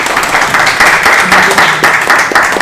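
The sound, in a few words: applause at a board meeting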